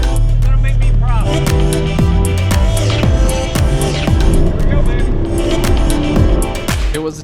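A car laps the Laguna Seca race track, its engine loud and close with steady shifting pitch as it accelerates and brakes through the corners, with voices talking over it.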